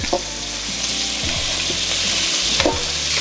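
Andouille sausage sizzling in hot olive oil in a pan for jambalaya pasta, a steady close crackle with brief stirring scrapes and no voices.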